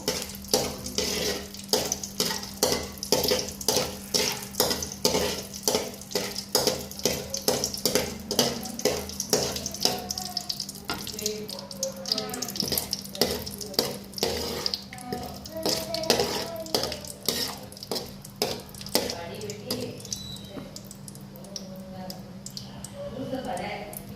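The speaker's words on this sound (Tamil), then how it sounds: "லைட்டாக நெய் கொஞ்சம் சூடானதுமே முந்திரியை போட்டுக்கணும்." Cashews fry in ghee in a pan for a semolina kesari dessert, giving a steady sizzle with rapid, rhythmic stirring scrapes against the pan and occasional clinks of utensils, with a voice talking over it.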